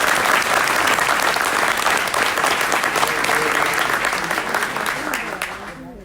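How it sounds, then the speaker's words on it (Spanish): An audience at a conference claps loudly and continuously for an honoree, a thick sustained wash of applause that tapers slightly toward the end. "Un aplauso para Darwin, por favor."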